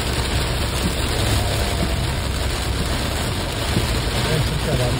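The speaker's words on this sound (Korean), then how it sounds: "이렇게 비가 많이 오는데" Heavy summer rain pours down in a dense, steady, broadband hiss that holds at the same loudness throughout, close and continuous.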